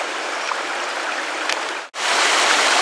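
A small woodland stream rushes loudly and continuously, a close, dense splashing hiss with one brief break near the end.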